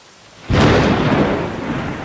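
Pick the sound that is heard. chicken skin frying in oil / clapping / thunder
thunder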